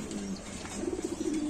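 Maltese pigeons at a fancy pigeon farm coo softly in a short rolling burst, close and fairly quiet, with no voices over them.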